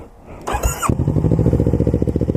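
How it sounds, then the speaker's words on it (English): A Kawasaki ER6 motorcycle fitted with a Scorpion exhaust starts with a loud burst, then settles into a close, steady, throbbing idle with a rapid even pulse, with no talking. "Left my indicator on, but I'll let you hear the exhaust."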